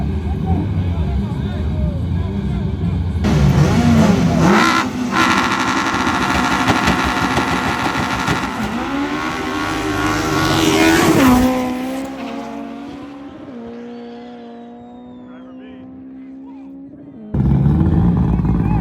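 Race cars, including a white EG hatchback, roar at full throttle in a street race final, a loud, rising engine scream with tire noise that fades as they pull away, then a sharp return of close engine sound at the end.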